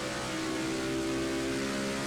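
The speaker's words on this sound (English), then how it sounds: "And just listen to the engine roar through that section of corners." V8 stock car engine roaring in an NCS SimRacing race at Barber, a steady droning hum with layered harmonic tones under a hiss of noise, constant and unbroken throughout.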